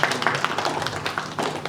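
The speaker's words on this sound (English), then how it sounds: "Let's give him a huge round of applause." An audience claps for a speaker just introduced at an Indian startup and entrepreneurship panel event. Dense, steady applause runs the whole moment at moderate loudness with no talk over it.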